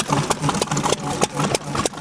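Several old engines idle at an outdoor snow engine show, a steady chugging with regular popping exhaust beats, fairly close and continuous.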